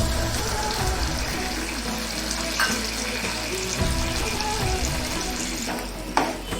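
Jaggery and a little water bubbling and sizzling in a pan with ghee, a steady close frying hiss with occasional stirring clinks.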